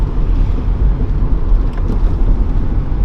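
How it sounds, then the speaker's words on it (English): A car with worn hub bearings rolls along with a steady low rumble and droning hum, constant road noise throughout with no voices. "We need new hub bearings."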